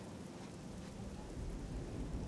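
Steady rain falling in the video game Oblivion, a continuous dense hiss with low rumbling that swells slightly louder toward the end, heard alone without talk.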